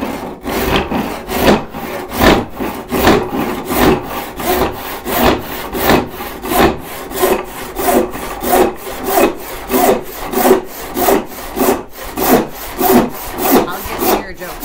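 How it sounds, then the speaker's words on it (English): A hand saw cuts across the end grain of firewood clamped in a vise, steady rhythmic rasping strokes about one per half second, close and loud, with no voices. "This saw has a little bit of flexibility, and as I'm cutting into the end grain"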